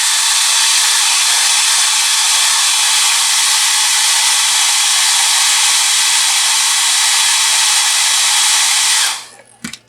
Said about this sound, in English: But I'm going to take my hair dryer.